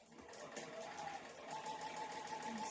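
A sewing machine stitches pieced quilt fabric along a drawn line, its rapid mechanical chatter running steadily at close range with no talking.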